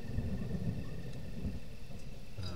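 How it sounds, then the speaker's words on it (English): Low, steady rumble of thunder in a video game at midnight, continuous and broad with no distinct cracks, running unbroken through the whole stretch without any talking. "Oh, it sounds like it's gonna be thunder."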